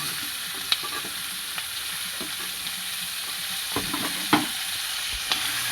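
Garlic cloves and onion sizzling in a pot with chicken for chicken soup, a steady hiss of frying with occasional spoon scrapes and clinks as the pan is stirred.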